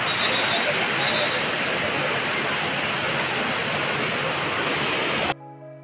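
Water rushing near a river on a trip around Shillong's root bridge village: a loud, continuous broadband roar of flowing water that holds steady throughout before cutting off abruptly near the end.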